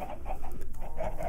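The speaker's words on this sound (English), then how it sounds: "Chickens." In-game chickens in Minecraft give a few soft, repeated clucks close by, short bursts spaced rhythmically with nobody talking over them.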